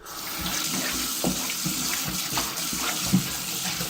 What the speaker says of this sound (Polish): Wody nalewamy